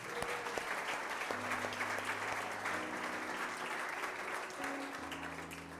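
Church congregation applauding, a dense, steady patter of many hands clapping together that continues for several seconds, faint and even in level, with no talk over it.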